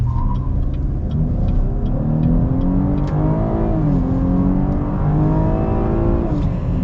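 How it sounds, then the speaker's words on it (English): A 2021 Chevrolet Blazer RS in two-wheel-drive mode accelerates hard, its engine roaring steadily with rising and shifting tones as the front tires spin, loud and close throughout with no talking. "You just roast the front tires whenever you floor it, when you have it in the two-wheel drive mode"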